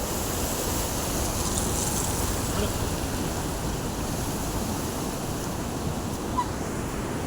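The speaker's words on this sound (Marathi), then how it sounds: "याला इतकं पाणी चालू आहे भरपूर प्रमाणामध्ये" A loud, constant rush of a stream swollen by heavy rain fills the scene, a broad steady roar with no pauses.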